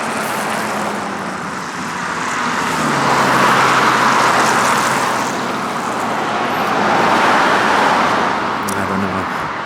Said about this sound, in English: Bit too many cars for me,